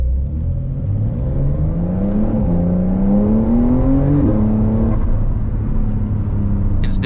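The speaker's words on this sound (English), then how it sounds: "The shifts are so fast and precise." A 2021 Porsche 911 Carrera 4S accelerating hard, its engine note climbing steadily with quick, crisp gear shifts that drop the pitch briefly before it rises again, loud and close throughout.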